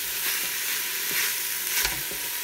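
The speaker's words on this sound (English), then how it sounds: "So just keep giving those a stir" Green onions sizzle in a pot for chicken soup as they are stirred, a dense, bright frying hiss with soft spoon scrapes running throughout, close up.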